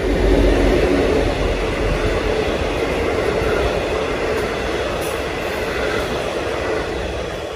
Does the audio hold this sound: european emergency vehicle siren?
no